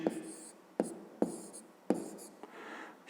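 Pen or chalk writing out numbers for a subtraction exercise in a fifth-grade maths lesson, four or five short, close scratchy strokes in an uneven rhythm.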